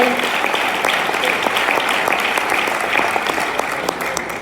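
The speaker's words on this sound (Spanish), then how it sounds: "Denle ese aplauso a Dios esta mañana" A church congregation on a Sunday morning breaks into steady, loud applause, a dense wash of clapping with a few sharper claps rising above it and no talk on top.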